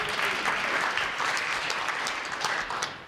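Audience applause during a JavaScript conference talk, a dense, continuous patter of many clapping hands filling the room at a steady level throughout.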